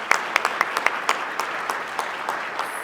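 A round of applause from an awards-ceremony audience for a police detective, a thin scattering of separate claps with a few sharper hits near the front, fading out toward the end.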